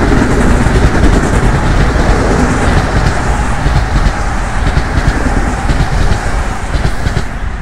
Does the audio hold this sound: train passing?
yes